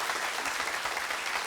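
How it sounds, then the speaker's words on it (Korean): An audience applauds after a lecture on human and robot coexistence by a Hanyang University robotics professor, giving steady, dense clapping throughout. "재미있는 강의해 주신 한자권 교수님께 다시 한번 박수 부탁드리겠습니다"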